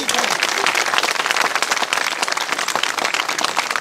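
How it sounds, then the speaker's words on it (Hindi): Dense applause from a large gathered crowd of job candidates, steady and loud throughout with many overlapping claps forming a continuous roar. "ताली बजाइए"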